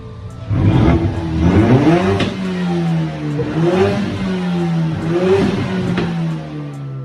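A Ford Mustang engine with a tuned exhaust revs repeatedly, rising and falling in several loud, close blips over a steady throaty idle.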